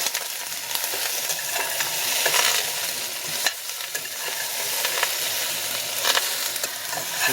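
Previously browned carrots and other ingredients sauté in a pot for a vegetarian curry, with a close, continuous sizzle and frequent stirring scrapes throughout, no voices.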